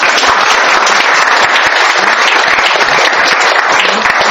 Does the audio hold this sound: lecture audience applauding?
yes